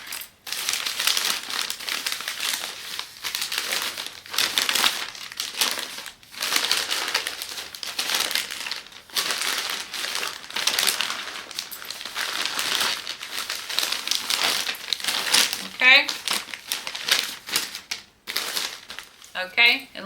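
Gift-wrapping paper crumpled and stuffed by hand into a hole, a long run of dense crinkling and crushing bursts with brief pauses, close and loud, under occasional talk.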